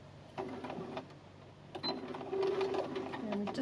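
A sewing machine stitches heat-cut felt pieces of a zipper purse together in several runs of rapid, steady stitching, with short pauses between bursts and a little background noise.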